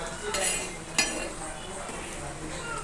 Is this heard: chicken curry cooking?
yes